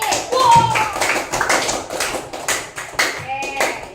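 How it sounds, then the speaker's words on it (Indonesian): Children clap their hands together in a classroom, a brief burst of applause mixed with high young voices chattering and calling out throughout. "dah tepuk tangan untuk kita lagi"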